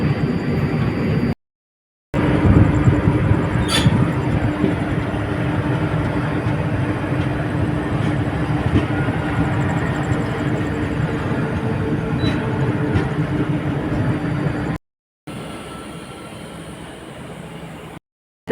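The Teesta Torsa Express runs at night, its carriage rumble and rail clatter a steady loud drone throughout, with brief dropouts and no clear speech.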